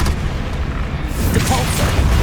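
Booming spell blasts and bursts from Hogwarts Legacy combat, loud and dense, with a voice calling out spell names over them.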